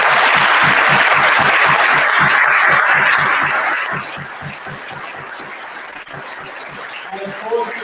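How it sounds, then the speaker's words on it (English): An audience at a school opening ceremony applauds its students. Dense clapping runs for about four seconds, then drops to a scattered patter, with a voice entering near the end. "Can we give our students, first and foremost, a huge round of applause?"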